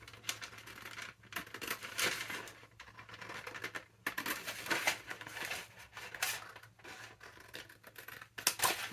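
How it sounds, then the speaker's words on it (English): Cheap scissors cut through a junk mail envelope, giving a series of crisp, close snips and paper rustles in an irregular rhythm, quiet and with no talking. "Just going to use my crappy scissors"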